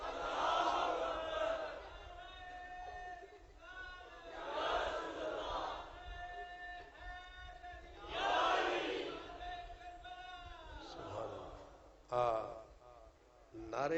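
A crowd at an Imam Hussain conference chants religious slogans in loud rhythmic waves, each rising call followed by a brief lull, repeating several times before a sharp burst near the end.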